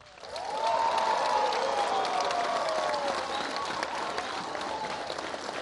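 A large outdoor crowd in Kogelo claps and cheers loudly for President Barack Obama's arrival, a sustained dense roar of applause that swells in and holds steady, with a faint voice and whistle-like tones rising over it.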